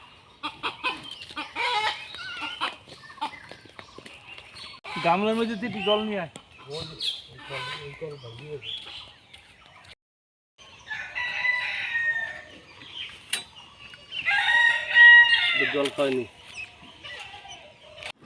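A live desi chicken clucks and crows in short repeated bursts, close and fairly loud, while people talk nearby in a home setting before it is cut for cooking.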